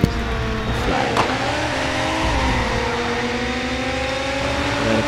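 A 450 hp Audi R8 in the mobile drift racing game CarX Drift Racing, its engine droning and revving steadily while tires squeal continuously through a drift, loud and close, no talk.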